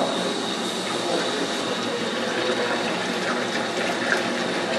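Water rushes steadily out of a turbine outlet behind a door into a small catch can, a dense, even hiss-and-splash that stays constant and fairly close with no voices over it.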